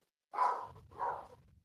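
A dog gives two separate barks close by at moderate loudness. A faint low rumble continues under and after them.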